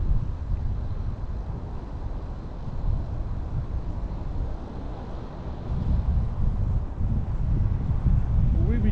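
Wind buffets a microphone outdoors on a city street near Union Station at Adams and Clinton in Chicago, a continuous low rumble with gusty swells, loud and close, no voices.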